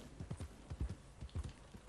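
A draft horse's hooves clip-clop in steady paired beats at a walking pace in Red Dead Redemption 2, fairly close and alone over a soft outdoor wash.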